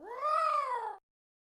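A single drawn-out, eerie cat meow lasts about a second, clear and close, then cuts off into silence.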